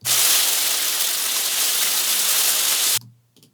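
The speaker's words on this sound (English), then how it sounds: "the sound of some rain on a plastic roof." Rain patters densely on a plastic roof, a loud, even hiss of countless drops lasting about three seconds before cutting off.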